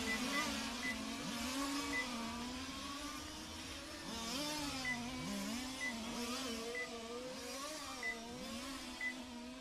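Large-scale RC touring and F1 race cars screaming around a track in a qualifying session, several high-pitched electric-motor whines rising and falling as they bump and jostle, distant and steady.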